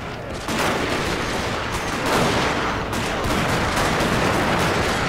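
Dense close-range musket volleys and scattered gunfire crackle continuously in Shogun 2 Fall of the Samurai battle combat, loud, overlapping shots with no pauses.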